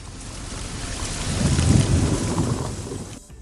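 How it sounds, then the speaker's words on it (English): Dense, steady roar of heavy rain pouring down, swelling slightly in the middle and easing toward the end, with no voices. "Listen to the rain."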